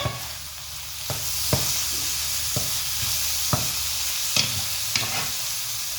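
Holy basil leaves tossed into a sizzling Thai stir-fry with century egg, a steady close hiss broken by sharp spatula scrapes and clacks about once a second, no talk.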